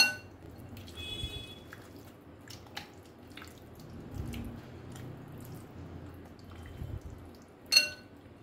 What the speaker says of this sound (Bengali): খুব ভালো করে মেখে নেব আমি